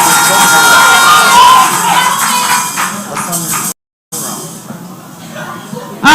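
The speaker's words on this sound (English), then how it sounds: "Hey, my people, you are not even cheering your people up." Crowd noise from a live audience at an inter-ministerial quiz competition, with cheering and shouting voices loud and close, then a brief silent cut before the room noise returns.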